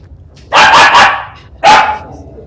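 A dog barks in the Divinity: Original Sin Enhanced Edition video game, with a loud multi-part bark followed by a second sharp bark, close and clear.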